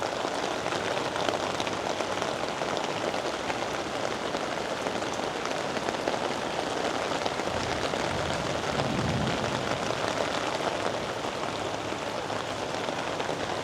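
Rain falls steadily on a garden of bonsai trees, a dense, even hiss of drops on surfaces with no voices.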